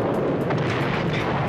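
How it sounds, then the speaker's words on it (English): Gunfire from the TV show Knight Rider: dense, continuous rumbling bursts of shots and blasts that blend into a loud, unbroken barrage. "they're still shooting at us!"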